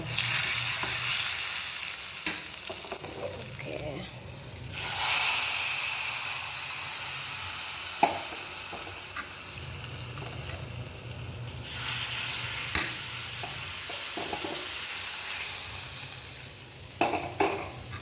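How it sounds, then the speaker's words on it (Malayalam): Spices for a vegetable curry tempering sizzle and fry steadily in hot oil, with occasional stirring clicks and a brief louder burst of hiss midway, heard close and without talk. "നമുക്ക് വറവിലോട്ട് ഇടാം കേട്ടോ"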